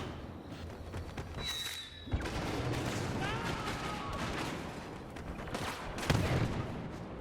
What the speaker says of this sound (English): you got Han going in with his rapid fire